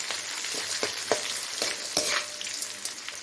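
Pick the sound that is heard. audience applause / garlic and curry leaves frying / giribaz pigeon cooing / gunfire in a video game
garlic and curry leaves frying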